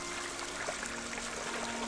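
A clean, undisturbed brook flows steadily nearby, a continuous bright rushing and trickling with no breaks and no voices.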